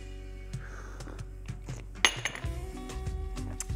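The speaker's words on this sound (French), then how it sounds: "pensez à bien remuer votre double espresso" A metal spoon clinks repeatedly against a cup while stirring a double espresso, producing several sharp, close taps at irregular intervals, with one louder strike midway and a busier run of small clinks toward the end.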